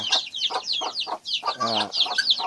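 Hybrid chickens crossed with native fowl cluck inside a crowded coop in quick, repeated bursts, with one louder, drawn-out squawk partway through.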